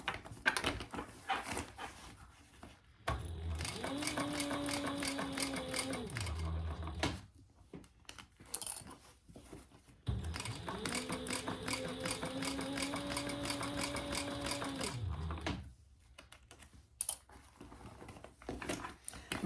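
A sewing machine top stitches a fabric shoulder bag in two steady runs of fast, even needle chatter with a motor hum, separated by quiet pauses and small handling noises, close and clear.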